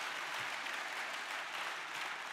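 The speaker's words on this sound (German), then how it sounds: "Dafür würde ich nochmal gerne herzlich Applaus vom Publikum." Audience applause at a Bitcoin conference panel, a dense, steady wash of clapping from a crowd that fills the whole stretch evenly without pauses.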